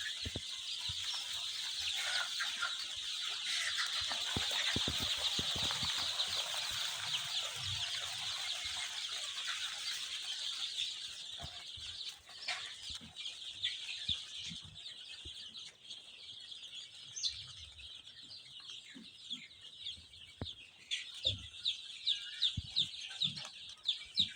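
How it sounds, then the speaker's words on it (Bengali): Sonali classic hybrid chicks, about a thousand of them, chirp in a poultry shed, a dense, high, continuous peeping chorus that is faint overall, with occasional sharper nearby chirps and light clatter. "এখানে আমার 1000 মুরগির বাচ্চা আছে, সোনালী ক্লাসিক হাইব্রিডটা।"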